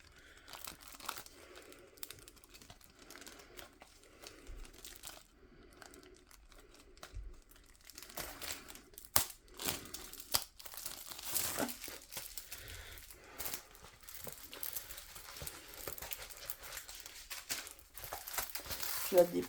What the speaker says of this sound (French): on va ouvrir le plastique.